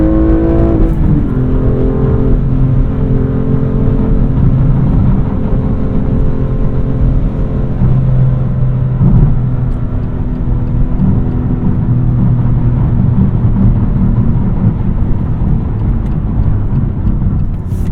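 A BMW engine droning steadily after a downshift while driving, a loud continuous rumble with sustained harmonic tones that hold and shift slightly in pitch throughout.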